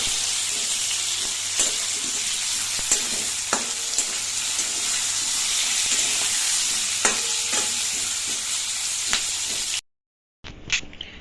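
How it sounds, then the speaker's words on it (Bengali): Eggplant frying with neem leaves in oil, a loud continuous sizzle punctuated by spatula scrapes and clicks, cutting to near silence before a short burst of sound at the end. "এইদিকে একটু নিম পাতায় বেগুন ভেজে নিচ্ছি।"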